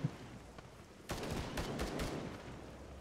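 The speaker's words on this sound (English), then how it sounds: "we're getting shot at the whole time" Gunfire in a video game: a dense burst of rapid shots erupts after a second, loud and layered over a rumbling battlefield bed, with a few sharper cracks standing out.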